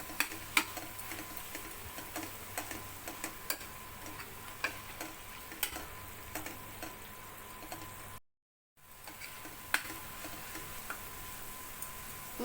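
Paneer bhurji with coriander and mint is stirred in a pan, giving a quiet, regular ticking of the spoon against the metal over a faint sizzle, with one brief dropout and no voices.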